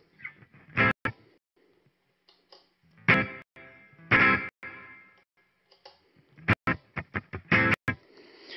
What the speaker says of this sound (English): And here's the reverb.